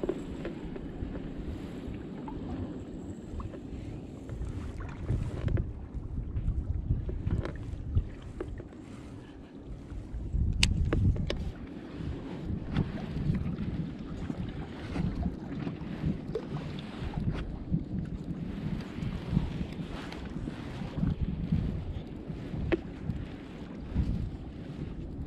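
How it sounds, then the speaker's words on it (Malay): Sea waves slap against an inflatable rubber fishing boat off the Malaysian coast, with heavy wind buffeting the microphone in a continuous rough roar and irregular splashes throughout. "Ui, ombak dia boleh tahan lah. Boleh tahan ombak dia"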